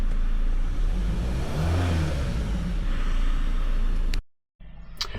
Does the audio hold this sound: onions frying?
no